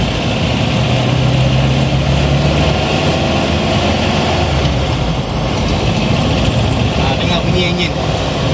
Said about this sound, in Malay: Dengar bunyi enjin.